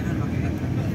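Airport apron with a Batik Air airplane nearby, a steady loud low engine rumble filling the whole second, with people talking over it.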